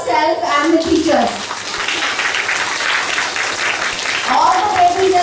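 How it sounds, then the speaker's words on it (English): Schoolchildren clap at a Labour Day school assembly, a dense patter of small hands running steadily for several seconds, with children's voices and an adult talking before and after. "So clap for yourself and the teachers."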